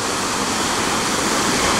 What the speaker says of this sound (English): Now I'm panning over to the waterfall.